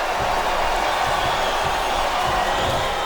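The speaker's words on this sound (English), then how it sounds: "I love hearing a crowd come alive." A wrestling arena crowd roars continuously in the WWE SmackDown vs Raw 2008 video game, a dense, steady wash of cheering and noise with faint thumps beneath, no single voice standing out.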